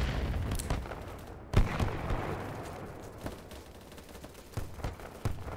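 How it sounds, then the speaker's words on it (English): A grenade blows up nearby during a Battlebit Remastered match: one sharp booming blast rises out of a steady rumble of gunfire, followed by scattered distant shots and thuds. "Oh, grenade!"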